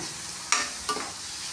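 Grated paneer mixed with salt being stirred in a hot pan for a bread sandwich filling, two short scraping stirs over a faint steady sizzle, close and fairly quiet.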